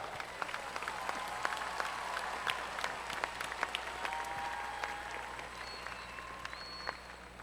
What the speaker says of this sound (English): Get a big round of applause.